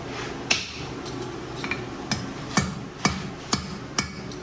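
A ball peen hammer strikes metal while forging spurs, in a slow, steady series of sharp ringing blows, about one every half second, close and clear against a quiet background.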